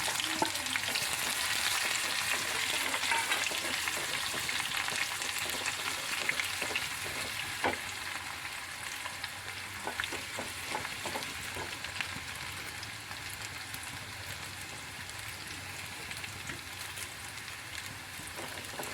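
Chillies and small onions fry in hot oil for a tomato curry, a dense steady sizzle with crackling pops, close and continuous throughout with no talking.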